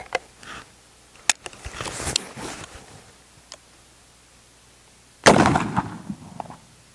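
A Springfield Trapdoor Model 1884 rifle fires one sharp, loud shot near the end, with faint clicks and handling noises before it in otherwise quiet surroundings.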